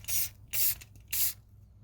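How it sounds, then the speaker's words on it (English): Three short hissing bursts of Rust-Oleum spray paint from an aerosol can, each about a quarter second, close and fairly loud with quiet gaps between, while a faded Halloween decoration gets a fresh coat. "I think I'm gonna go ahead with the Rust-Oleum one."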